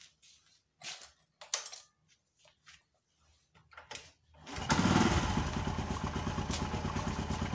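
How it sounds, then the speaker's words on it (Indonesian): A motorcycle engine is started after a few faint clicks and taps, then settles into a loud, steady running idle that continues close by to the end. "saya coba dulu hidupkan motornya"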